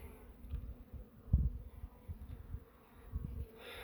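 Honeybees in an opened hive troubled by hive beetles give a faint, low buzzing hum with a few soft knocks and bumps, no voices.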